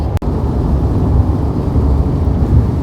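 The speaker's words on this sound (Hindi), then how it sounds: "अच्छी तेज बारिश आ गई है।" Heavy rain pours during a road trip toward Belagavi, a loud, continuous roar of water drumming on the vehicle, with a brief click near the start and no talking.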